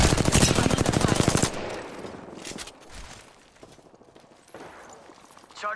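Rapid automatic gunfire in Apex Legends, a dense burst of shots in a steady fast rhythm that cuts off after about a second and a half, followed by quieter game sounds and scattered effects.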